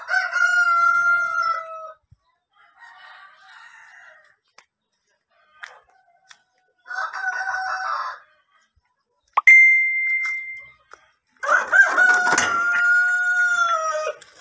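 Brahma and Rhode Island Red chickens and roosters in a coop: several loud, drawn-out rooster crows spaced apart, with softer clucking and occasional metallic clinks between them, fairly close.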